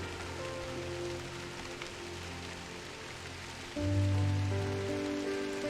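Light drizzle falls steadily in Drizzlepath at early dawn, a soft continuous hiss of fine rain with no voices, swelling slightly louder toward the end.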